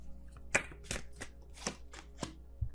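Tarot cards being shuffled by hand, a quiet series of six or so soft papery riffles and slaps spaced unevenly, close and alone with a low steady hum behind.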